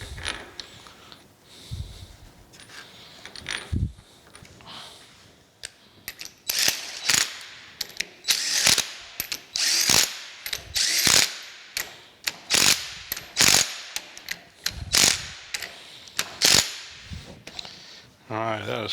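A ratchet wrench tightens clamp bolts on a New Haven metal planer in a workshop, giving close, sharp bursts of rapid clicking strokes repeated again and again with short pauses between.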